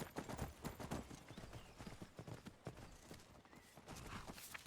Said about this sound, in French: appelle ton cheval, mon grand